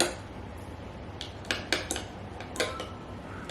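Coconut oil being mixed into a homemade hair spa cream in a bowl, with a spoon clinking and scraping against the bowl in several quick, irregular strokes over a quiet background.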